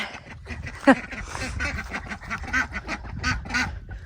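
Homestead ducks quacking near chickens being moved in, a series of short nasal calls at close range over a busy outdoor background.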